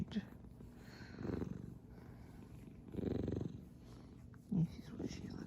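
A cat purring quietly up close in a calm indoor setting, soft rhythmic rumbling swelling in a few louder bursts over about five seconds, with no talking.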